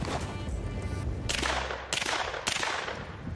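Three heavy gunshots from a gun fired at a shooting range, a booming report roughly every half second, each with a rumbling tail, over steady outdoor background noise.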